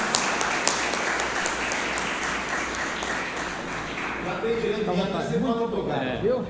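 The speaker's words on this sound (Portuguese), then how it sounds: "Gostaria de recebê-lo com a salva de palmas." Audience applause welcomes a veteran criminal lawyer to the stage at a jury-trial training event in Ceará, a steady dense wash of clapping that gives way to a voice speaking over it toward the end.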